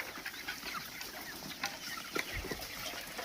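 Native village rooster offered for sale at a market stall, giving a few short clucks and a brief crow-like call amid steady outdoor crowd noise and hiss, moderately near.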